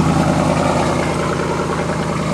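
A stock Dodge 4.7 liter V8 with straight-pipe dual exhaust and cheap echo tips idles close by, a steady, loud, low rumble with a fast even pulse throughout, no talking.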